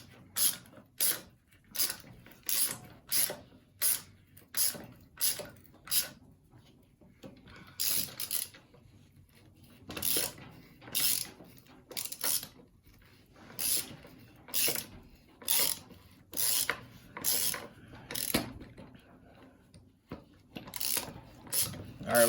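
A bolt is forced through a welded part of a wooden hot rod pedal car, making a long series of sharp, close ratcheting clicks in bursts with short pauses between them.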